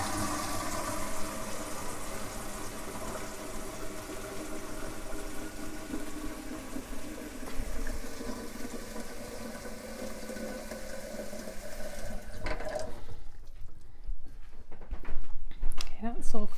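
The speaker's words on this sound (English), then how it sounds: "I just literally put a few drops into the bottom of the watering can and then fill up with cold water" Cold tap water runs steadily into a watering can at home, a continuous close rushing fill that cuts off near the end, followed by faint handling noises and some speech.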